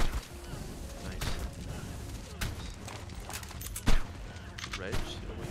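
Shotgun and other gunfire from an online survival video game crackles in rapid bursts and sharp single blasts, mixed with background game noise and overlapping player talk.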